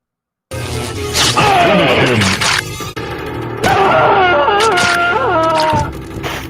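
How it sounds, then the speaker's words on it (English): Screaming and pained wailing from a Mortal Kombat fight scene, loud anguished cries and groans mixed with hits and thuds, in two long bursts separated by a brief pause. "Now you know it hurt when you scream like that."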